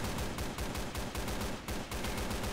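Rapid automatic gunfire from a Left 4 Dead 2 match, with dense overlapping bursts of shots rattling almost without pause throughout.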